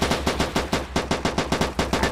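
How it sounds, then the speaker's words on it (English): Rapid heavy gunfire from anti-tank guns in a WW2 battle in the video game Arma 3, with loud, regularly spaced shots of about four per second, close and continuous. "you're hearing the AT guns open up on them."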